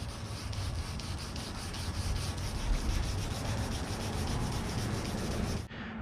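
Hand sanding of a scratch on a car bumper cover, a steady rhythmic rubbing rasp with repeated back-and-forth strokes, close and continuous, stopping abruptly near the end.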